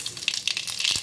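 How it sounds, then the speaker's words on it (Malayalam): Mustard seeds splutter in hot oil in a heated pan, giving quick close crackles and pops over a soft sizzle for about a second. "നമുക്കിത് ഇനി കടുക് പൊട്ടിക്കാം"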